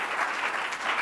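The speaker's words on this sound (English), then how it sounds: "Big round of applause for Jim being our first panellist." A panel-discussion audience gives a steady burst of applause for the first panellist at a homelessness forum in Perth, dense continuous clapping filling the room without pause.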